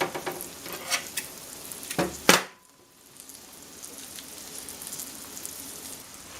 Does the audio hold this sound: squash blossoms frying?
yes